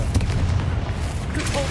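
A Confringo blasting spell in Hogwarts Legacy detonates with heavy, rumbling booms amid combat noise, while a voice talks over the blasts.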